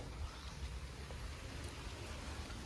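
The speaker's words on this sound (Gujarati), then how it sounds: "સરસ મજાનો વરસાદ શરૂ છે" Steady, soft rainfall hiss with no voices, a faint even wash of falling rain throughout.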